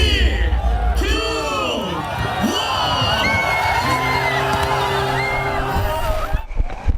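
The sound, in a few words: crowd cheering at a winter sea-swimming festival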